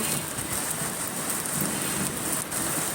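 Heavy rain pours down at night in Dhaka, a dense, steady hiss of drops drumming on surfaces that holds at an even loudness throughout, with no voices.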